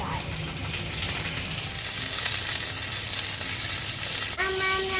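Pork chops sizzle in a hot frying pan, a steady bright crackle throughout with a brief clatter near the end; a low background murmur sits beneath the frying.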